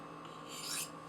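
One short rasping stroke of a knife blade drawn across a sharpening stone during freehand sharpening, a brief scrape that swells and fades against a quiet background hum.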